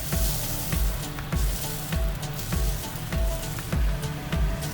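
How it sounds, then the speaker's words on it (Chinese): Chow mein noodles are stir-fried in sauce in a hot pan, with a loud, continuous sizzle broken up by rhythmic scraping and tossing strokes from the stirring utensil. "一边加一边搅散面，让面都裹上料汁儿"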